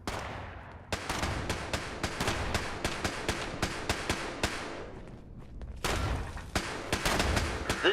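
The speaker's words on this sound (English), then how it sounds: "here's where everybody's getting popped off by the turrets" Turrets in the overseer's office of Fallout 76 firing steady rapid bursts, loud sharp repeated shots in a running rhythm with a short pause midway before the fire resumes.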